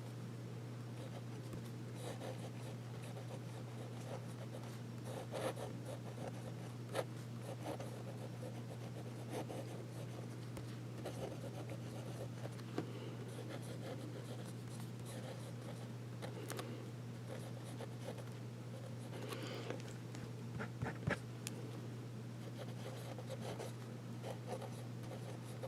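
Sheaffer fountain pen nib scratching and rubbing across paper in steady, quiet strokes, close up over a constant low electrical hum, with a few slightly sharper scratches near the end.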